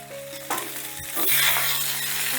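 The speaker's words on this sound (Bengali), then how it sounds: "মিনিট খানিকের মতো নাড়াচাড়া করে নিচ্ছি" Vegetables, including bottle gourd greens, stirred in a hot pan with oil for dal makhani, giving a steady sizzle with a few scraping stirs, close and moderately loud, with faint tonal background music.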